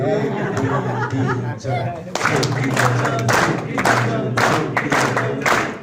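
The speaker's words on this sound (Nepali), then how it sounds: "ताली सहित गरौँ है त" An audience at a Nepali stand-up comedy show claps along and applauds with scattered laughter and chatter, rhythmic claps layered over a voice that keeps talking throughout.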